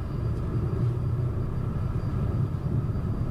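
A private jet's engines spooling at takeoff power during the takeoff roll, a heavy, steady low roar and rumble heard from inside the cabin, continuous and fairly loud with a faint high whine.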